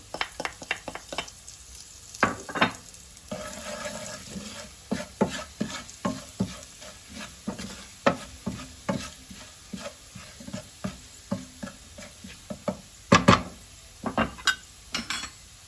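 Spices, black pepper, salt and chili flakes cook in a pan, a soft sizzle under frequent scraping and stirring taps of a utensil against the pan, quiet and close, no talk.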